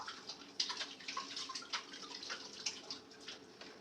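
Water drips and splashes softly as hands are washed under a tap, making a faint, continuous trickle with small irregular splashes and no voices.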